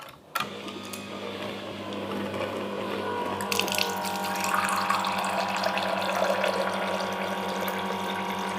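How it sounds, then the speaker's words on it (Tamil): A refrigerator water dispenser: a sharp click, then a steady pump hum and the continuous trickle of water pouring, close and constant for several seconds, with no talking. "ப்ரெஸ் பண்ணாக்கா இப்போ நம்மளுக்கு தண்ணி வாட்டர் வர பாருங்கள்."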